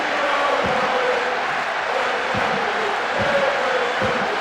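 A large stadium crowd in a football video game fills the air with a steady, dense roar, and a few low thumps rise under the continuous murmur.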